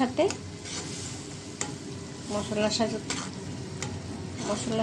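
Tomatoes and spices are stirred and sautéed in a pan with hilsa fish tail and head, giving a soft, steady sizzle broken by scattered spoon scrapes and light clinks, close but fairly quiet.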